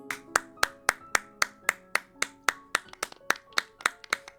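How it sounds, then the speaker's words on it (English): Several pairs of hands clap in a steady, even rhythm in the Genshin Impact game, about fifteen crisp, evenly spaced claps ringing with a light musical tone, with no talking over them. "A round of applause, please."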